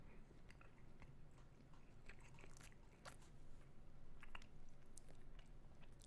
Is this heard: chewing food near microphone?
yes